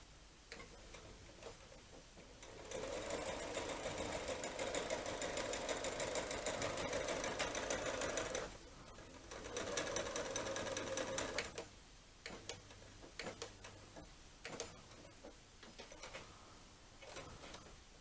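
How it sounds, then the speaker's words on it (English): A sewing machine stitches fabric corner to corner for a swan, running in two long, fast, even bursts of rapid ticking. Short pauses and a few brief starts follow, all close and fairly quiet. "again sew from that corner to that corner"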